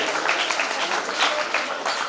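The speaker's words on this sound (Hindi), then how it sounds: "आप भी जोर से तालियां बजाइए।" An audience claps together at a spiritual gathering and silver jubilee celebration, a dense, steady wash of many hands at moderate loudness that holds evenly throughout, with no voices standing out over it.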